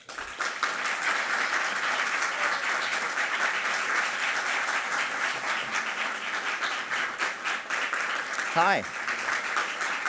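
An audience at the New York Public Library gives steady, sustained applause welcoming the College Board CEO, with a brief spoken greeting near the end.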